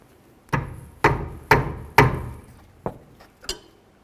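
Several sharp metallic clanks ring out as a rear brake caliper bracket bolt on a 2007–2012 Nissan Altima is tightened, four evenly spaced hits followed by a few lighter taps.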